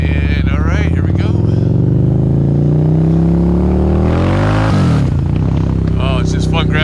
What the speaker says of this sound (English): I love the exhaust. I think the note sounds great.